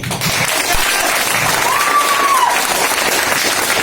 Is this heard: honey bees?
no